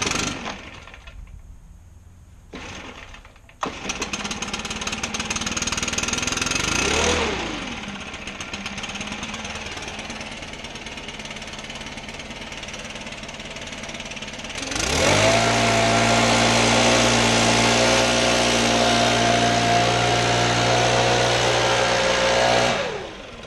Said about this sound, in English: this is a cold start, not runner yet